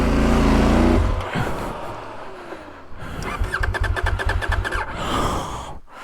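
A CFMOTO 800MT-X adventure motorcycle engine revs off-road. The drone drops away, then returns as a rapid stuttering pulse while traction control cuts in and chops the power in quick bursts.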